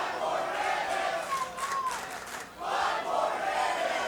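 Wrestling crowd at an MLW Blood & Thunder event roaring and cheering after a lightning match, a loud sustained swell of voices that dips briefly and then surges back up.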